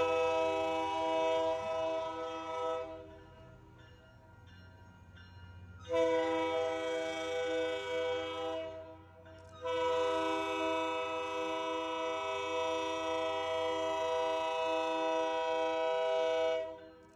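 An MBTA commuter train horn blares in long sustained blasts, pausing twice, over a steady rumble of the passing train near MIT in Boston.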